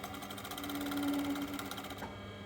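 Sewing machine stitching a raglan sleeve onto a sweatshirt, a steady fast whirring run of needle strokes close up that stops abruptly near the end, with no talking.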